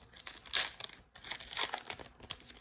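Foil trading card packs being torn open up close, two bursts of crinkly ripping and crumpling about a second apart, with smaller rustles between, quiet and without speech.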